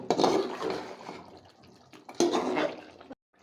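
Spiced chicken curry meat is stirred in a pot in two scraping, sloshing bursts of wet, thick movement, separated by a quieter stretch, ending in sudden silence.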